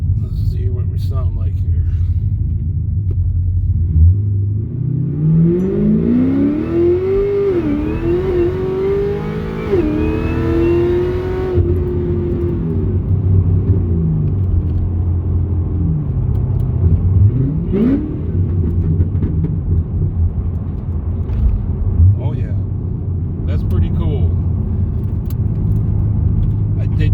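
Cadillac CTS-V engine and exhaust while driving, a steady low rumble with a rising acceleration pull that sweeps up in pitch midway, then a few shorter revs over continuous road noise.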